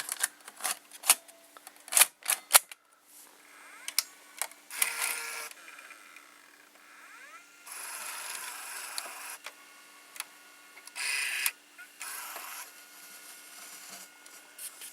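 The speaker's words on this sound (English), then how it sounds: "Now I will insert the 8mm tape." An 8mm tape being inserted into a Canon ES270 camcorder, heard as a run of sharp plastic clicks and snaps followed by whirring and clunking from the loading mechanism, close and fairly quiet.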